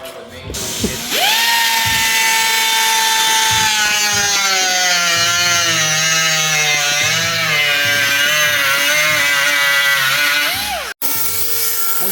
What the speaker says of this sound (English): we are cutting up the Miata